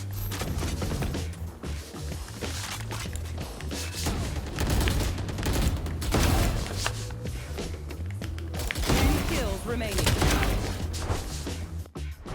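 Sustained Phantom rifle spray fire from Valorant, dense continuous automatic gunfire with game effects running throughout, loud and close with no talking.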